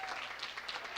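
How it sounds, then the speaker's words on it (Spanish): A church congregation claps during a sermon on marriage, a brief, fairly quiet patter of hands from a moderate distance. "Vamos a darle un aplauso fuerte"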